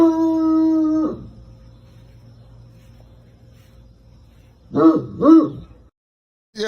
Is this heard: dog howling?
yes